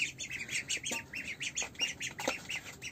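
A group of ducks squawks repeatedly nearby in a cold farmyard, loud overlapping quacks and harsh calls coming in a quick, uneven rhythm with no speech.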